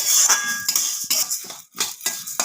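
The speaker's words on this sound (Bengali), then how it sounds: "এভাবে খুন্তি দিয়ে করে নিতে পারো এভাবে আমি নাড়তে থাকবো" Puffed rice is stirred in a pan with a metal spatula over a gas flame, making rapid close scraping and rustling strokes in short repeated bursts.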